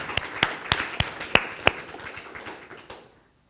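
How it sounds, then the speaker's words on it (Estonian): A sparse audience claps for the organisers of an event, with a few loud, distinct claps over a thinner patter, fading out near the end. "nad on teeninud ühe suure aplausi niisuguse ürituse korralduse eest"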